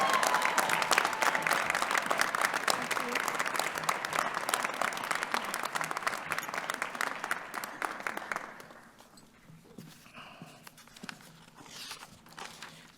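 Convocation audience at a fall graduation ceremony applauding the faculty: dense, sustained clapping from a large crowd for about eight seconds, then fading to scattered claps and quiet room noise.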